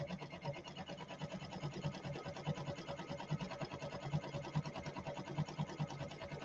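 A multi-needle embroidery machine stitching appliqué runs with a steady, rapid mechanical chatter of needle strokes, moderately loud and continuous without pause.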